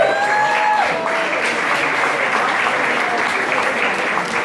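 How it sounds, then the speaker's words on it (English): Audience applause at a political campaign rally for the Hillary Clinton general election kickoff: a dense, steady burst of clapping from a sizeable crowd, loud and sustained throughout with some scattered cheering. "Let's give a round of applause to Carolyn Maloney."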